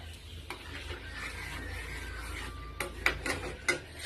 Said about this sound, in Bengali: দেখেছো, তাল জাল দিচ্ছি।